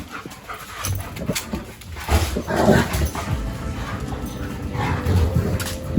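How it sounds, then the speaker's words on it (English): Dogs run and play around a 5th-gen Toyota 4Runner outdoors, panting heavily with occasional yips and whimpers over a steady rustle of movement. "The dogs are playing hide and seek, or tag, I guess, here."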